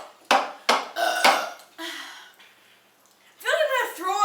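Several loud burps from people in a burping contest, a series of short bursts followed by a longer drawn-out belch, with a little talk in between.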